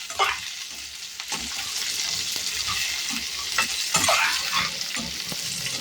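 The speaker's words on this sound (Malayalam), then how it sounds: "മുരിങ്ങക്കായ, വെണ്ടക്കായ എല്ലാം ഇട്ടിട്ട് നന്നായിട്ട് വഴറ്റിയെടുക്കണം." Drumstick and okra pieces being stirred and sautéed in a pan for sambar, a steady close sizzle with repeated scraping stirs and light utensil knocks, no voices.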